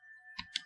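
A computer keyboard typing a command, three quick close key clicks after a brief near-silent pause, no speech.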